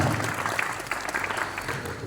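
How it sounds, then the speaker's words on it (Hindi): A school audience claps loudly to welcome Prakash Sir at a Republic Day event, with dense continuous applause throughout. "जोरदार तालियों के साथ अभिनंदन करते हैं प्रकाश सर का"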